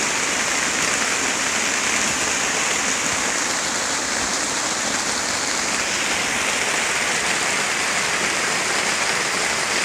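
Steady rain falling, a dense continuous hiss that stays loud and even throughout with no pauses and no voices.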